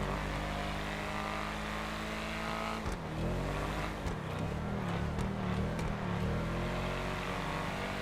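A car engine at full throttle in Grand Theft Auto V drones loud and close, with a brief dip and a shift in pitch midway before it climbs again. No one speaks.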